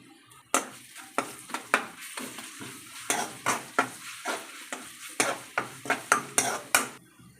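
Ginger garlic paste with a pinch of turmeric frying in a pan for beetroot curry, with a utensil stirring and scraping in a steady run of sharp clinks over a soft sizzle, close and fairly loud, no talk.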